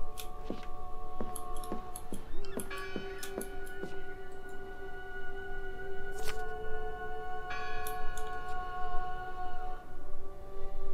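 Church bell tolling inside the Draugen video game, several clear ringing strikes with sustained tonal overtones and sharp ticking transients over a steady background hum, moderately close.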